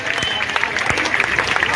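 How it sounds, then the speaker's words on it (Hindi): A crowd at a protest rally of contract workers in Bihar claps loudly in a dense burst of applause under a speaking voice. "आप लोग जोरदार ताली बजाइए दोस्तों"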